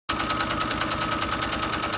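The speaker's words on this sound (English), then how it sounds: "I just finished sewing that grid down" A sewing machine stitching grid lines onto fabric for a button calendar, a steady close mechanical whir with a fast even pulse that starts abruptly and runs continuously without talk.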